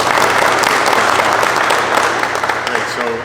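Applause from an audience at a Paterson press event announcing a Next Generation 911 network, steady close clapping throughout, tapering slightly as a voice begins at the very end.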